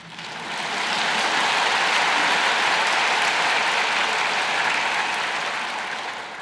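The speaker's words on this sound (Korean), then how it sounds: "예수님의 초청을 우리 다 받았다고 박수 쳤습니다." A church congregation breaks into applause during a sermon, a broad wash of many hands clapping that swells in, holds steadily for several seconds, then tapers off.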